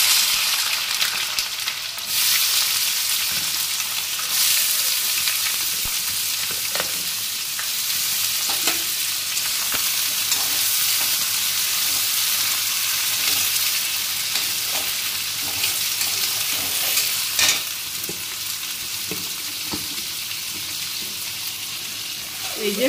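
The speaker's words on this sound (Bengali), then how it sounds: "এই যে পেঁয়াজটা এবারে আগে ভাজা করে নেব" Chopped onion frying and being stirred in hot oil with cloves and cinnamon for mutton curry, a loud steady sizzle running throughout with occasional scraping clinks of the spoon.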